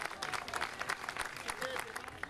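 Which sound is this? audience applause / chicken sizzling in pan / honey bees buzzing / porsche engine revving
audience applause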